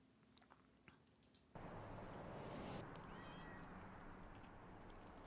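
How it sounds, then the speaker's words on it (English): A cat meows in the video game Vampire: the Masquerade - Bloodlines, a faint short mew over quiet room ambience before a louder, noisy background takes over. "I heard a kitty, but I don't think he's for us."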